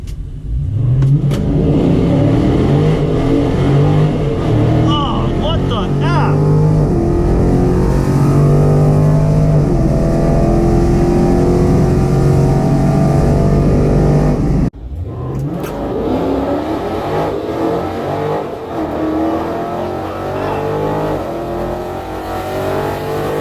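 A loud Dodge Challenger drag racing car revving hard and accelerating, pitch climbing and dropping through several rough gear changes, with an abrupt shift in sound midway.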